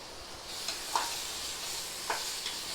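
Mint and coriander leaves sizzle softly in hot oil for a prawn biryani, with a few light scraping stirs of a spoon in the pan over a steady low hiss.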